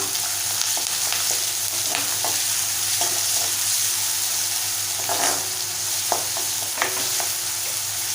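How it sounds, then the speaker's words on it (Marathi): Chopped onion and curry leaves sauté in oil on high gas with a loud, continuous close sizzle and occasional scraping stirs, and no voices. "मोठ्या गॅसवरती आपल्याला कांदा तेलामध्ये छान परतून घ्यायचा आहे नरम होईपर्यंत"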